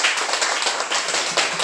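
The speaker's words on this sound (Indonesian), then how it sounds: "Beri tepuk tangan untuk kelompok 3." A classroom of students applauds a student group after their presentation on magnets, a dense, steady patter of many hands clapping at close range that fills the short moment without any talk.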